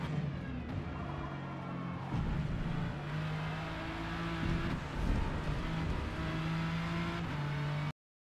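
A Ford GT LM race car at Kyalami in Forza, its engine droning steadily and rising and falling in pitch as the throttle is worked through a corner, loud and continuous with no talking.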